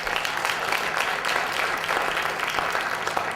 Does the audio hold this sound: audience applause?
yes